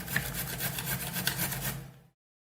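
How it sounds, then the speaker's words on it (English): Fresh zucchini rubbed against a hand grater for muffin batter gives close, rhythmic rasping strokes that repeat steadily for about two seconds, then stop abruptly into silence. "now it's time for the zucchini and the grater"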